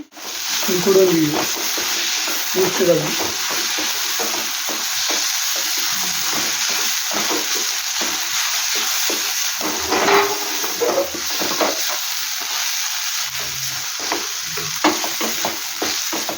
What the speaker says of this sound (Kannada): 4 ನೋಡಿ ಹಸಿರು ಏಲಕ್ಕಿ ಹಾಕ್ತಾ ಇದ್ದೇನೆ. ಚೆನ್ನಾಗಿ ಫ್ರೈ ಆಗಬೇಕಿದೆ.